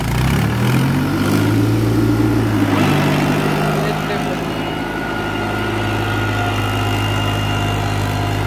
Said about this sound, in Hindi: यहीं चल रहा है खेत में ट्रैक्टर